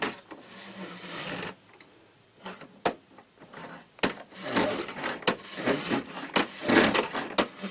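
Scissors being sharpened against the stone of a 1960s E Z Tool universal sharpener give off a series of close, rough scraping strokes punctuated by sharp clicks and ticks, with irregular rhythm and pauses.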